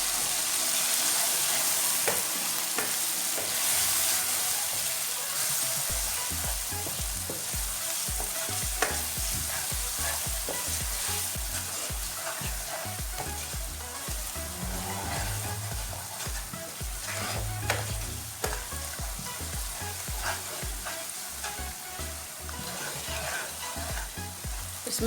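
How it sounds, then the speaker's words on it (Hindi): Ground red chili, crushed red chili, turmeric and crushed ginger frying in a pan, with a continuous close sizzle and repeated scraping stirs of a spoon throughout, without talk. "1 मिनट भून लेंगे।"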